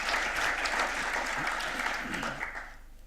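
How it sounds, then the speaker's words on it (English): Audience applause for a panel at an AI ecosystems industry conference, a steady dense wash of many hands clapping that fades slightly toward the end, with faint voices mixed in. "So please give them a good round of applause"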